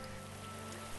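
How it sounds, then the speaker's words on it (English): Steady rain falling in the video game Starbound, a continuous even hiss of drops on surfaces lasting the whole moment without voices. "It is starting to rain."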